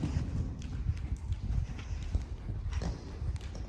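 Horse hooves clip-clopping in a quick, steady rhythm on hard ground, close by, with no one talking.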